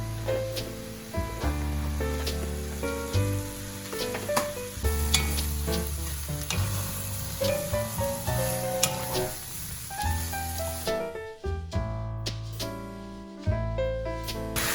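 Minced garlic frying in a spoonful of oil in a pan for braised semi-dried pollock makes a continuous bright sizzle beneath prominent background music, fading briefly toward the end.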